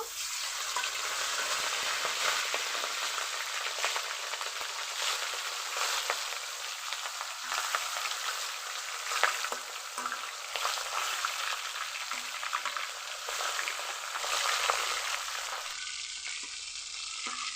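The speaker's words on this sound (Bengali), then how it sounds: "কড়াইয়ে তেল গরম করে নিয়েছি এখন মাছগুলো দিয়ে দিব" Pieces of a large 3 kg mrigal fish, rubbed with salt and turmeric, fry in hot oil in a wok, producing a loud, continuous close-up sizzle with occasional crackling spikes.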